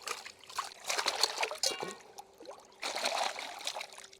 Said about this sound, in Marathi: आता ही वजडी आहे आपण धरण्यातल्या पाण्याने धुतोय याला खूप पाणी लागतं आता धुते वजडी